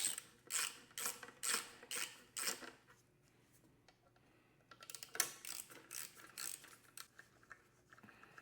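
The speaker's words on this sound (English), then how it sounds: "using a T25 socket, we're going to remove" Ratchet with a T25 socket loosening the clutch cover bolts on a BMW K1600 GTL motorcycle, quick close bursts of clicking strokes, a pause, then another longer run of ratcheting.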